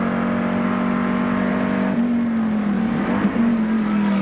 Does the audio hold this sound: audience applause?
no